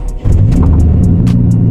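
BARRA-swapped Ford Falcon EF engine, tuned to about 400 hp and cold after sitting nearly a month, catches and revs up into a loud, steady close-up idle-rev drone with no talk.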